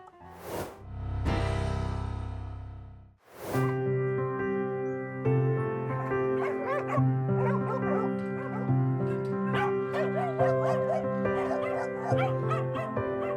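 A rescued dog at an animal rescue center in Ukraine barks loudly at first, then settles into a long run of high whimpering and whining yips, close and continuous, with no talking over it.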